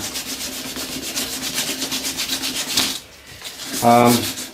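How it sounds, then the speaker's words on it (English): Steady rhythmic rasping of hand sanding a bushcraft knife handle, close and continuous, with repeated back-and-forth strokes, then a brief pause and a louder scrape. "it's been quite a while doing this hand sanding"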